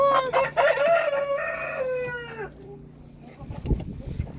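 Chickens in a backyard coop give a loud, close run of drawn-out clucks and squawks that trail off into quieter rustling and scuffling.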